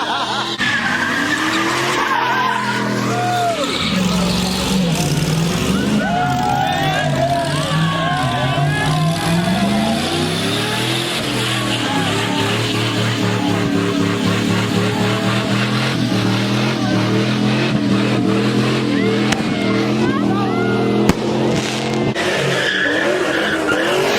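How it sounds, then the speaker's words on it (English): Chevrolet Camaro and Pontiac G8 engines rev hard at a crowded car meet, loud sustained roaring with tire skid and shifting pitch sweeps for the whole stretch, voices shouting faintly underneath. "That Camaro sounds loud, but I think the G8 is louder."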